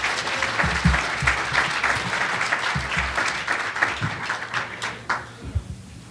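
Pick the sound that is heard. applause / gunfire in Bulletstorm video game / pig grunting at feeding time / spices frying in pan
applause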